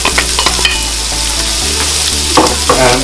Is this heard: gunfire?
no